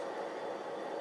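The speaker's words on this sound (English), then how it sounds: "There we go, we can see the locomotive" A model train locomotive runs along its track, a steady, close whirring hum from the small motor with no pauses or voices over the brief moment.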